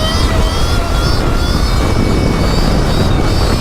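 A Sur Ron electric bike ridden at full power, a loud, steady motor whine and rushing wind roar filling the entire moment without a break.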